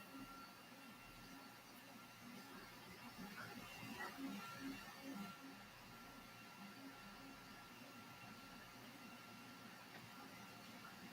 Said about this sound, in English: Oh, that's my 3D printer.